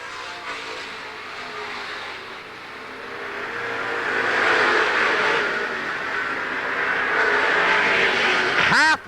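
Stock race cars at Seekonk Speedway in 1985, a steady loud roar of engines building and passing, ending with a sharp swell as a car goes by close.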